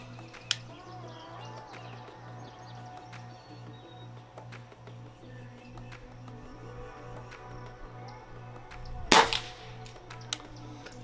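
A single sharp air gun shot at a target rings out loud and close near the end, over a steady low hum and faint outdoor bird chirps.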